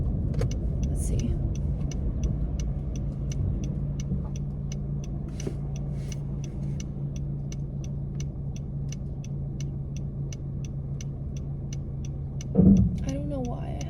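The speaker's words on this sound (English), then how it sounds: "it's gonna take 20 minutes for me to drive like 4 miles because of traffic" A car drives slowly through traffic, its steady low engine rumble and road noise continuous, with a regular faint ticking like a turn signal throughout and a brief bump near the end.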